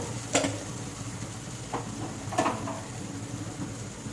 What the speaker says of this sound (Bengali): এবার আমি মটর সিদ্ধগুলো দিয়ে দেব।